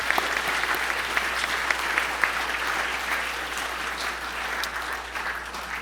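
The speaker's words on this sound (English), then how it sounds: "How about another round of applause?" Audience applause fills a room at an awards dinner, a steady wash of many hands clapping with scattered sharper claps, holding even for several seconds before easing slightly.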